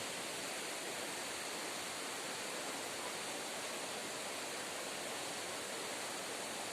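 Steady, dense hiss of falling rain, soft and distant, unbroken throughout with no voices.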